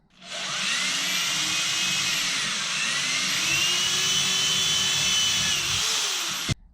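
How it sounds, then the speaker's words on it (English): A power drill whirs steadily at high speed for several seconds, drilling holes for a doorway hangboard mount, its pitch shifting slightly under load, then cuts off abruptly. "then you can drill those holes from behind"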